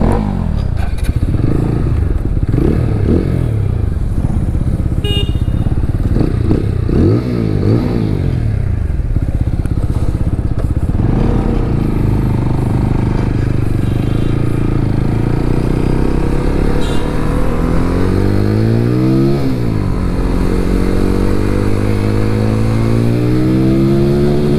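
A TVS Apache RTR 200 4V Race Edition motorcycle, BS6 version, being ridden on the road, its engine droning steadily and loudly throughout with repeated rising and falling revs through gear changes, plus wind rush and no speech.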